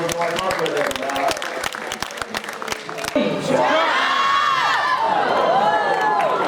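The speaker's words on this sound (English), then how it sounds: "give him a round of applause" Crowd at the Dreamworld Tiger Island show on the Gold Coast, Australia, applauds with quick, dense clapping, then breaks into loud cheering, whoops and children's shouts that carry on to the end.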